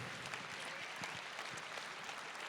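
Applause from a stadium crowd at a graduation ceremony in Udine's Stadio Friuli, a steady dense wash of clapping that sounds broad and somewhat distant, with no talk over it.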